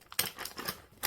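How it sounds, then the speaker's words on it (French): Cellophane around floral foam in a pumpkin flower arrangement is snipped with scissors, giving a few quick, crisp crackling cuts up close, fairly quiet. "Avec la mousse, je viens couper le cellophane à ras"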